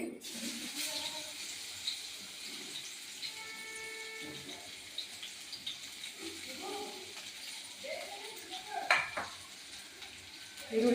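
Chopped onions sizzle in about two spoons of hot oil while a mutton chops dish is cooked Maratha style, a steady soft hiss with occasional stirring clinks from a pan, under a voice.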